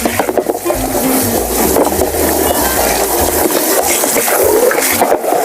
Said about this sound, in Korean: 그래서 거품을 깨끗하게 헹궈 주시고요.